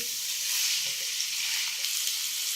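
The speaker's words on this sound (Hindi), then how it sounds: "बस 1 मिनट के लिए इनकी भुनाई करनी है हमने।" Vegetables stir-fry in a pan for chicken macaroni, giving a steady, even sizzling hiss with a few faint stirring ticks and no voices.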